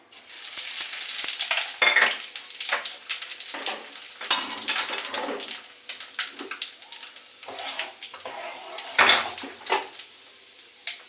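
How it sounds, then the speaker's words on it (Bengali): Panch phoron spices crackle and spit in hot oil for a mango pickle, with bursts of sizzling, clinks of a metal spoon against the pan, and a few scraping stirs, close by and without speech. "এই দেখুন পাঁচ ফোড়ন ফোটন দিচ্ছি ভাই"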